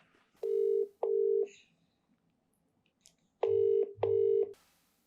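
Telephone line tones during a phone call: four loud steady ringback-style beeps in two pairs, each pair of long tones separated by a short gap, with a faint click between pairs and quiet background in the gaps.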